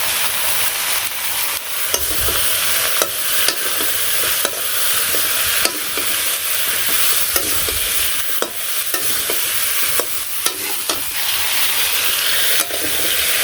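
Food fries in a pan seasoned with salt and turmeric, a loud constant sizzle with regular sharp scrapes and clicks of a utensil stirring close by, no voices.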